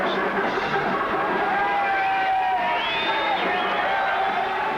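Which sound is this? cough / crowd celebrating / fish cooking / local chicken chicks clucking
crowd celebrating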